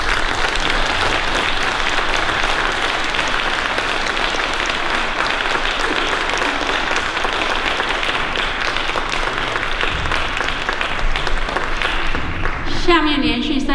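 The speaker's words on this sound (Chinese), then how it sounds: "我们再给他们一个掌声" Concert audience applauding steadily and loudly after a performance by a cello and violin trio, a dense continuous wash of clapping that fades near the end as a faint tone enters.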